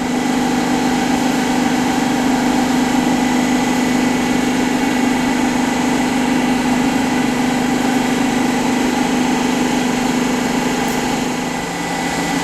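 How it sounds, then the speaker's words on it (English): A ship's steering gear hydraulic pump runs steadily with a constant engine-like hum and whine, loud and close, continuous through the whole stretch without talk, easing slightly near the end. "The pump start pumping in one direction."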